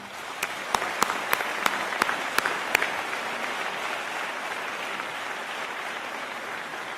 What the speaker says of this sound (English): Please give a well-deserved round of applause to these people.